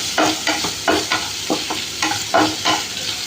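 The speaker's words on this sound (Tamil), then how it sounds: "இப்போ பாருங்கள், நல்லா வதக்கி விட்றோம். எண்ணெய் பிரிஞ்சு வர்ற வரைக்கும் வதக்கிறோம்." Onion and tomato are sautéed in oil in a pan, a spatula scraping in a quick, regular rhythm of about eight strokes over a loud, close sizzle.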